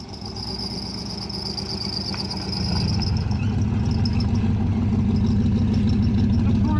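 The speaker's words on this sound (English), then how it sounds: "I snapped off my alternator bracket. That's why the thing's squealing." A Mustang engine idles steadily with a snapped alternator bracket, and a thin, high squeal from the alternator rides above the low, throbbing engine drone. The engine grows a little louder partway through.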